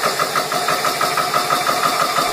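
Loud, steady mechanical drone of a running GX CS2 air compressor, continuous rumble with a fast pulsing chug, close by and alone.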